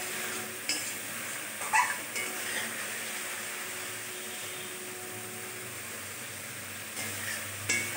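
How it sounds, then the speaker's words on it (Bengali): Spice paste stir-fried in oil in a pan for a Bengali dish, a soft steady sizzle with occasional scraping and clinks of a spatula against the pot, fairly close and unvoiced. "যতক্ষণ তেল ছাড়বে না ততক্ষণ আমি মশলা কষাতে থাকবো"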